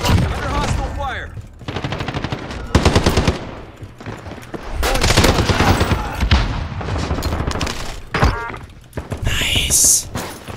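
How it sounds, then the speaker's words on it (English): Video game battle with bursts of rapid automatic gunfire and heavy thuds coming in waves over about ten seconds, loud and close, while a player and in-game voices call out over the shooting. "Under hostile fire!"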